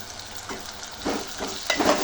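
Mutton keema masala with curry leaves being stirred in a hot pan: a soft frying sizzle under a few scraping swishes of a spoon, close by, with no voices.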